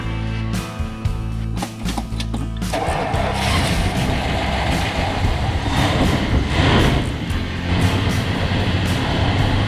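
A 1977 Dodge Dart engine cranks with short bursts, then catches around three seconds in and settles into a steady, loud, close idle with no talking.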